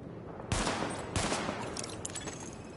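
Sidearm gunfire at highlighted targets during a weapon test in The Division on PS4: two sharp, loud shots about half a second apart, each ringing out, followed by fainter clatter and echoes.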